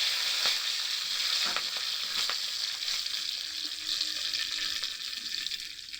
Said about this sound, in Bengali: তেল আমাদের গরম হয়ে গিয়েছে। এইবারে কিন্তু তারপরে পাঁচফোড়ন দিয়ে দিচ্ছি, আর দিয়ে দিচ্ছি দুটো মতো তেজপাতা